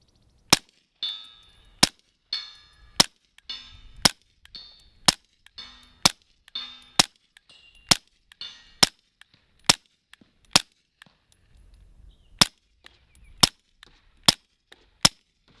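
Fifteen sharp pistol shots from a Canik TP9 Elite Combat loaded with Fiocchi 158 grain subsonic rounds ring out at a steady, deliberate pace, each crisp crack followed by a short metallic ring, with no talking.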